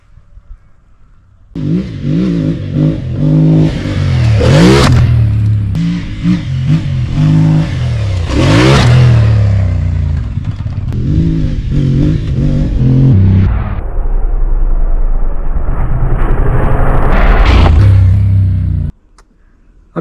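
A CFMOTO MT450 dirt bike tears around a motocross track, its engine loud and close, rising and falling through repeated hard revs and gear shifts for most of the run before cutting off near the end.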